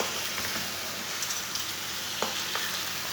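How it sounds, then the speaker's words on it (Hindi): Meat frying in a pan with garlic and onion for a village-style mutton dish, a continuous sizzle with occasional stirring scrapes and clicks of a spoon, close and steady with no voices. "लहसुन डाल के दोबारा इसे 3 मिनट के लिए भून लेंगे"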